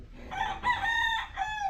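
Chickens crow and cluck in a close, steady run of overlapping calls, loud and continuous with no talking.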